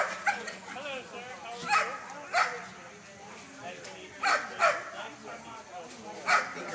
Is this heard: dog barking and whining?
yes